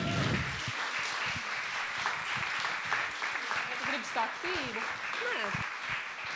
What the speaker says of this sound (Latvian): salieciet rokas, lūdzu, un ar skaļiem aplausiem sagaidiet Elīnu Martu Martinsoni